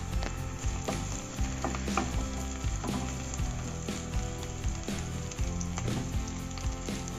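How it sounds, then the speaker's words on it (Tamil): Onions sauté in a pan for sambar rice, a steady close sizzle with soft stirring scrapes and clicks throughout, no voices. "பாருங்கள் நல்லா வெங்காயத்தை வதக்கிட்டேன் நான்."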